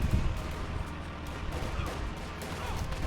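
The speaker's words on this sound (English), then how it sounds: "It's a strafing run pretty much, but keeps them suppressed." Aircraft machine-gun strafing run in Company of Heroes 2, heard as a rumbling barrage of rapid gunfire and impacts that stays dense and steady throughout.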